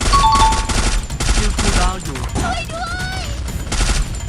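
Rapid bursts of gunfire with close impacts and game effects in the battle-royale video game Free Fire, loud and dense throughout, interrupted by a short pause in the middle while someone talks over part of it.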